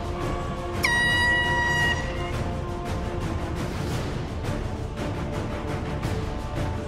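An air horn blasts loudly for about a second to start a cake-eating contest at a summer camp Color War event, then lively crowd noise carries on underneath.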